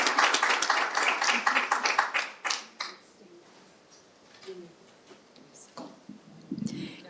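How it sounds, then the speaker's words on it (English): An audience applauds a speaker at a public talk on Richmond's shoreline, a dense burst of clapping for about three seconds that thins out and fades to a few stray claps and faint background murmur. "Can I hear another round of applause for Dr. Hill?"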